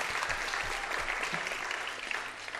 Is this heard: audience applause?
yes